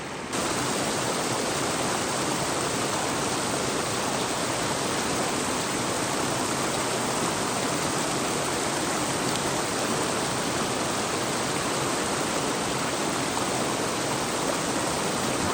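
Fast-flowing mountain stream current rushing in a steady, loud, continuous broadband wash, close by and unbroken, with no voices over it.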